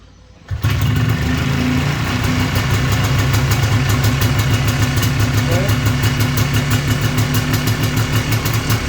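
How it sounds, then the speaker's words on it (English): A freshly rebuilt Polaris Xplorer 250 4x4 ATV engine catches after a brief quiet start, then settles into a loud, steady, close-up rhythmic idle that continues to the end. "let's just see if she'll fire up real quick."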